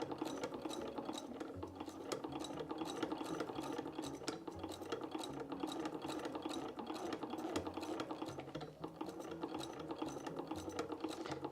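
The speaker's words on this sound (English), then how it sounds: "and make another line of stitching" A sewing machine stitches a line through trouser fabric for Edwardian-style trousers, a steady close rapid needle chatter running without pause throughout.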